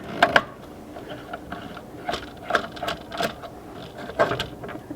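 A flathead screwdriver works loose the terminals on an off-grid cabin's solar wiring, giving off a series of sharp, close metallic clicks and scrapes at an uneven pace.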